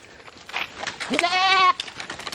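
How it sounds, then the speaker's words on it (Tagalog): A goat lets out one loud, wavering bleat up close, surrounded by rustling and shuffling. "Yung mga nabili kong kambing guys."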